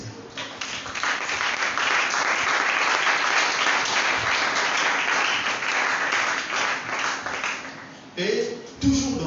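A church congregation breaks into sustained, loud applause that fills the space for most of the stretch, mixed with voices, then thins out to scattered claps and a voice near the end.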